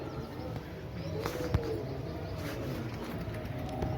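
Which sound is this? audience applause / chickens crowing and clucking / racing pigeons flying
racing pigeons flying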